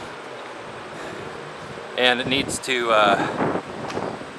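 Steady outdoor wind rumble runs throughout, with a person talking over it midway.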